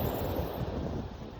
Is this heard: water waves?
yes